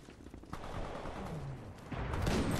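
Rapid gunfire from a Titanfall 2 match, a dense burst of muffled shots and rumbling impacts that grows louder and heavier toward the end, with no talking over it.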